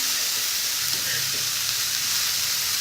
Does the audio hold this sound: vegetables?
yes